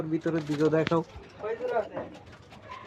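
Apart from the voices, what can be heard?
pigeons cooing on a rooftop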